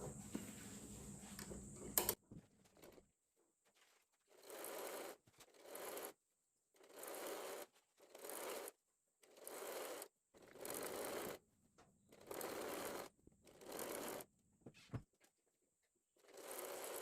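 A domestic sewing machine stitches girls' shorts in a steady pattern of about nine short bursts, each roughly a second long with brief pauses between, close and moderately loud with no talking.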